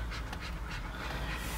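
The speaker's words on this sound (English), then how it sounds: "the dogs have got a bit hot in the front" Dogs overheated in the front of a car panting rapidly and continuously, close and fairly loud, with quick rhythmic breaths and no talking.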